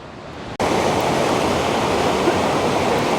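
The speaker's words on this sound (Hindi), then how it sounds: "ये कश्मीर का ऐसा वाटरफॉल है जिसमें हमेशा पानी रहता है।" Aharbal waterfall in Kashmir roars as a loud, dense, constant wash of rushing water, starting abruptly after a brief quieter moment and continuing steadily close by, without voices.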